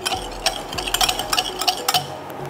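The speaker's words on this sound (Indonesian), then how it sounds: "Nah, kita aduk sampai rata." A utensil stirs a batter of mashed steamed pumpkin mixed with egg and sugar, giving repeated close scraping and clinking strokes against the bowl in a quick, uneven rhythm with no talk.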